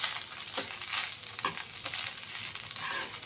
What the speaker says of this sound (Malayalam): നല്ലപോലെ ഒന്ന് മിക്സ് ചെയ്യും.